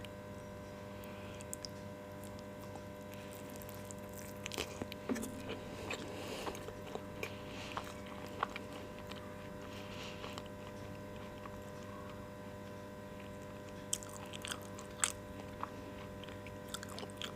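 Someone bites into and chews a plain, mildly sweet Indian sweet made of khoya, with soft, sporadic chewing clicks and small crunches, faint and close, over a steady low background hum.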